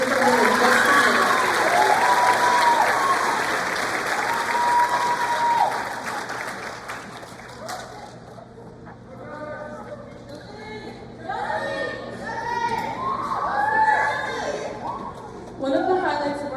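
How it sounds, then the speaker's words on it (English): High school spring concert audience breaking into loud applause and cheers that fade after several seconds into chatter, laughter and scattered voices, then a brief renewed burst of clapping near the end. "let's give them a round of applause"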